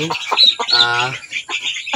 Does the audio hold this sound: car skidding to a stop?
no